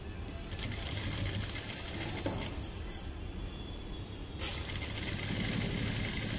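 A sewing machine stitching a lehenga, with a fast, continuous mechanical rattle that runs close and steady, broken by a brief pause near the middle before it resumes, with no one speaking.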